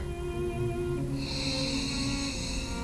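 A person takes a deep sniff of a glass of absinthe, a close, steady airy inhale through the nose that swells halfway through, over a faint hum.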